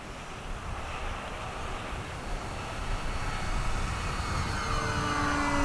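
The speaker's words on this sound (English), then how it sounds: "We're going to come right down the runway full speed with the wind." An FMS Kingfisher RC plane races down the runway at full speed with the wind, its motor a steady, loud buzzing drone that grows slightly louder as it approaches, with no talking.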